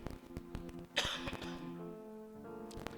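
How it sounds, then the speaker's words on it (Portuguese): A man suffering a bronchitis flare-up coughs several times in quick, harsh bursts, then clears his throat, close to the microphone in a quiet church setting with a low hum beneath. "perdoe vezes que eu tossi, eu estou com uma crise de bronquite"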